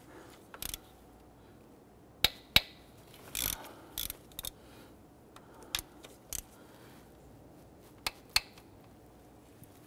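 A hand ratchet works 10 mm intake manifold bolts loose on a 2005-2011 Nissan Frontier 4.0L V6, giving quiet, close clicks and short ratcheting bursts at irregular intervals over near silence.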